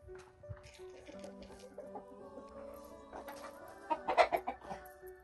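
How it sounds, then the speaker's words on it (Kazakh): Chickens clucking in a farmyard, a run of irregular clucks and squawks, moderately near, growing louder and busier toward the end. "бұл құс тауық деп аталады"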